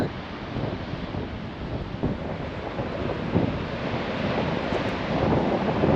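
Giant ocean waves breaking at Praia do Norte in Nazaré, a continuous distant roar of surf heavily mixed with wind buffeting the microphone, swelling slightly toward the end.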